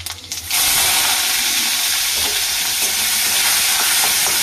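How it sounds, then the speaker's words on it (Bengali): Chopped onion drops into hot oil with dried chilli and bursts into a sudden loud sizzle that stays steady and close, with faint clicks of stirring. "পেঁয়াজটা দিয়ে দেবো,"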